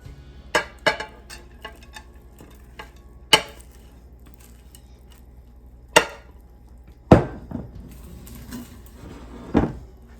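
Warm, sticky gluten-free rice krispie mixture is scraped and dumped from a hot bowl into a pan, sparse sharp knocks and clunks of spoon on bowl and pan over a quiet room.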